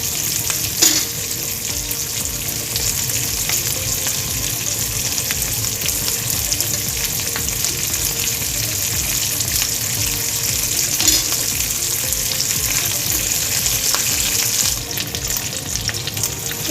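Mixed vegetables fry in a pan for egg fried rice, giving a steady, close sizzle that runs unbroken, with occasional stirring scrapes and no voices.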